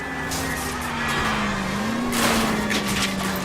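A car in the video game L.A. Noire drives hard with a steady, loud engine drone that rises and falls slightly, with brief tire noise, close and continuous.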